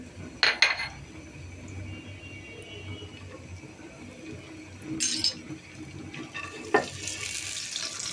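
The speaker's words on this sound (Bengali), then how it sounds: "এখন এই বাদাম আর কিশমিশগুলি ভেজে নিব" Almonds and raisins frying in ghee in a pan, a faint low sizzle with a few clinks and scrapes of a spoon against metal, close by and mostly quiet between the knocks.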